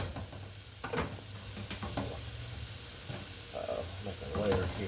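Chicken pieces fry in a pan for chicken tikka masala, giving a steady close sizzle with occasional stirring scrapes and clatter.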